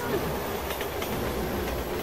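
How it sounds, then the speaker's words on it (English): A train rumbles past in the video game Resident Evil 6, a dense steady roar with faint rhythmic clacks, and a voice speaks over it. "Train!"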